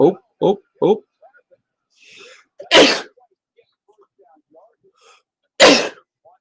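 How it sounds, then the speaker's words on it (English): A man sneezes loudly twice, several seconds apart, with short bursts of his talk at the start and quiet gaps between, while he watches a college football game. "did you hear me sneeze there?"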